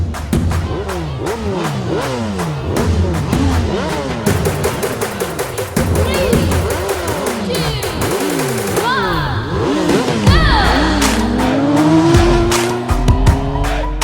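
Race cars roaring through a car race in a movie scene, loud engines revving and sweeping past one after another with rising and falling pitch, tire squeals and skids, heavy continuous action sound throughout.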